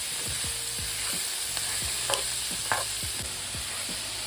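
Chopped bell pepper and celery sizzling and stirred in a pot for beef stew, a steady frying hiss with repeated scraping spoon strokes at a brisk, uneven rhythm, close and moderately loud, with no talking.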